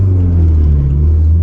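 A Toyota MR2 SW20 engine revving up close, a loud, deep, rumbling drone that rises slightly in pitch and holds steady, with no voices over it.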